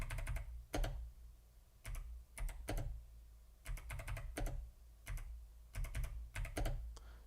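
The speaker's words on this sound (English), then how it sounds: "I highly recommend this keyboard." Typing on a computer keyboard while playing Tetris on DOS, quick bursts of close, crisp key clicks in irregular clusters with short pauses between.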